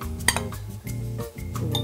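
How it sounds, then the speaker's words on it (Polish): A chocolate cosmetic mixture is spooned into a glass jar: a few close metallic clinks and taps of a spoon against glass, with soft scraping between them. "Przekładam do słoika."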